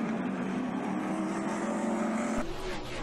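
A race car engine drones steadily on an oval track at Candlestick Park, a constant loud hum that shifts in pitch near the end as the pace car pulls off and the field follows.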